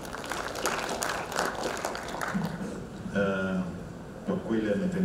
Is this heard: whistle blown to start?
no